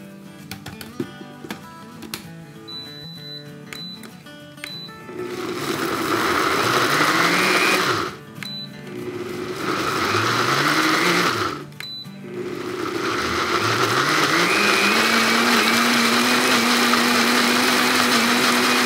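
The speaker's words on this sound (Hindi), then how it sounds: "अब हम इसके लिड लगा के इसको हम पीसते हैं।" A blender motor grinds chilies with vinegar loudly and steadily, its pitch shifting as the load changes, stopping briefly twice before running on.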